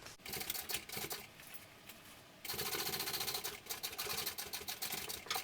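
A sewing machine running fast as it topstitches around a fabric sling, a dense mechanical chatter that pauses briefly midway and then resumes at full speed.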